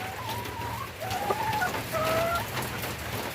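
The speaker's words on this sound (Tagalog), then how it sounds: "Americana chicken. Leg bar." Legbar chicken clucking nearby, a few drawn-out tonal clucks and calls over a noisy outdoor coop background.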